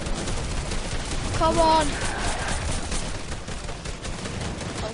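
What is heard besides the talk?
gunfire in Fortnite video game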